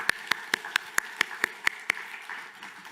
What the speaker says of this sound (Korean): 심지영, 정가은, 김봉남, 안효진, 박민아, 이혁수, 우리 성도님들을 위해 박수로 축하하겠습니다.